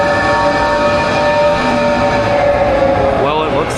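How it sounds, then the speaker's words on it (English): Hogwarts Express train at Universal Studios Florida pulling in, a steady loud rumble with a tonal hum and whistle-like notes, crowd chatter and speech mixed underneath. "Looks like our train is here, so we're about to board on and head over to Hogsmeade"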